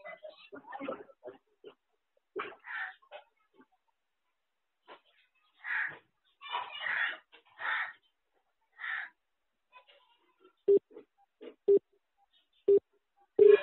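A telephone busy signal sounds after a number is dialed: short low beeps repeat about once a second near the end, following a stretch of faint, scattered speech-like sounds.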